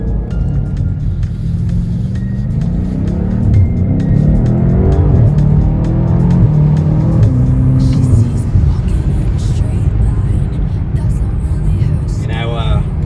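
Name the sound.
2020 BMW M8 Competition engine revving while shifting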